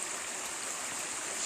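Runoff from heavy rain pours through a swollen creek and many little waterfalls, making a steady, continuous broadband rush of flowing water with no breaks, fairly close and even throughout.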